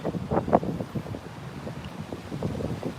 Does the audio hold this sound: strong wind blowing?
yes